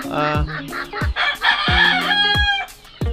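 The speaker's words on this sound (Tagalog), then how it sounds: "Malaking manok." Several backyard roosters crow and hens cluck nearby, calls overlapping in quick succession with no talking.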